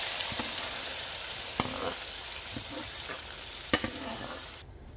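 Tadka tempering for kadhi sizzles steadily in a hot pan with curry leaves and ajwain, a continuous close frying hiss broken by two sharp clinks, with no talking.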